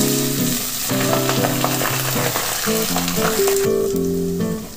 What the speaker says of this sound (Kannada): ಸಣ್ಣದಾಗಿ ಹಚ್ಚಿಟ್ಟಿರೋದಕ್ಕೆ 2 ಈರುಳ್ಳಿ ಹಾಕ್ತಾಯಿದ್ದೀನಿ